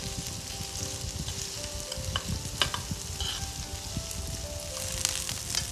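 Chopped green onion and ginger stir-frying in a hot pan while making Taiwanese minced pork, a steady close sizzle with scattered clicks and scrapes of stirring throughout, no voices.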